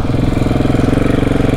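A KTM 690 single-cylinder motorcycle engine pulling away, loud and close, with a fast, even pulsing thump that holds steady for the whole stretch and no voices over it.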